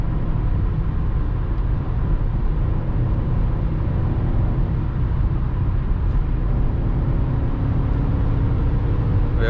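Remapped BMW X5 E53 4.4i V8 engine at high autobahn speed, a constant low droning roar mixed with road and wind noise inside the cabin, steady and loud with no talking.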